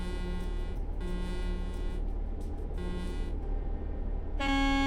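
Truck horn honking in Euro Truck Simulator 2, several tonal blasts in a broken rhythm over a steady engine drone, closing with a louder, richer horn sound.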